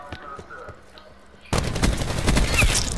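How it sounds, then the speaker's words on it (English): Cluster grenade explosions in Black Ops 4: after a quieter stretch of clicks and game noise, a sudden loud burst of rapid, overlapping detonations erupts and keeps rumbling and crackling to the end. "Throwing cluster grenade"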